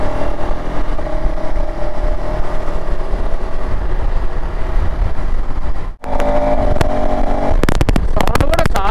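A 2025 KTM ADV 390 motorcycle engine drones steadily on a night ride in Hyderabad, buzzing under rushing wind, then cuts out briefly before surging back and revving up near the end.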